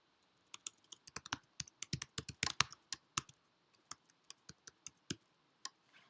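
Computer keyboard typing as a git command is entered, a quiet run of irregular crisp key clicks in quick bursts with short pauses, heard alone with no talk.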